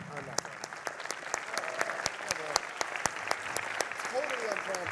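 A conference audience at an SXSW Interactive talk breaks into lively, uneven applause with many distinct claps, fairly close, and voices talk faintly beneath it.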